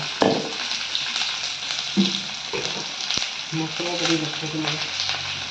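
Onions frying in oil in a pan give a steady crackling sizzle with occasional stirring scrapes, and a voice speaks briefly over the cooking.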